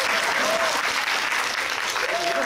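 Audience applause at a press conference for a game show, continuous dense clapping close by, steady throughout with a faint voice underneath.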